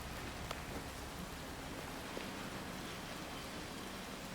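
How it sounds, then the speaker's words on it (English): Steady rain falls in the video game Hitman World of Assassination, a soft, even hiss of drops on surfaces with a few faint ticks. No one speaks. "Up for another 4 hours with me in the rain?"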